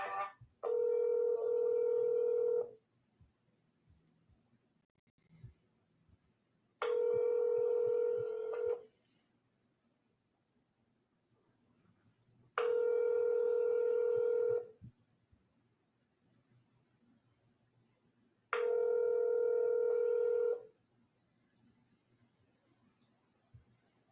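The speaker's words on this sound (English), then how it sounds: "hold on while I transfer you." Telephone tones on a line being transferred: four identical steady electronic tones, each lasting about two seconds, separated by longer quiet gaps with faint line hiss.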